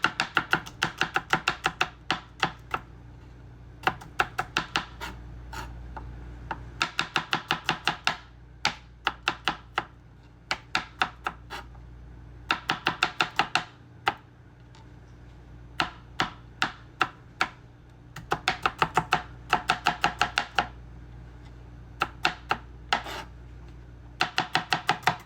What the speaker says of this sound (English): And I'm just gonna chop them. I'm very rustic with my garlic,